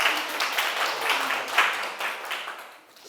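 A small church gathering gives a round of applause, a brief burst of close, quick handclaps that swells and then tapers off within a few seconds.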